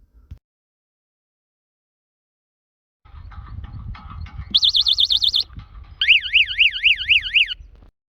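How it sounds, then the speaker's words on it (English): Gate tamper alarm system siren sounding loud and close, alternating wailing tones in bursts over rumbling noise, after a few seconds of near silence. "The second alarm is the alarm system being activated."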